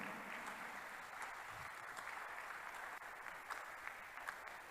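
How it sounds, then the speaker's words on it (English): Church congregation clapping during a prophet's sermon, a steady, fairly faint wash of many hands that continues without pause and without talk. "Clap before I continue."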